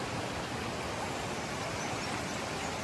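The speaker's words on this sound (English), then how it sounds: "it has this wonderful creek and waterfall" Steady broadband rush of a creek and small waterfall beside an old church in San Cristobal, a continuous hiss of falling water filling the whole clip with no voices.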